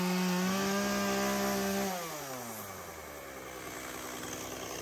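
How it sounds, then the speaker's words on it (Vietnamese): A motorised saw runs steadily as it cuts wood during rural work on a thatched-leaf hut in a Mekong Delta garden, its loud droning pitch shifting lower partway through, with no voices. "Lợi thì sơn, Tí Mập thì cưa"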